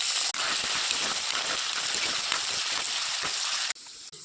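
Cut potatoes sizzle in hot oil with panch phoron, bay leaf and dried red chilli in a home kitchen, a dense, even crackle close by that cuts off sharply at both ends, with no talk.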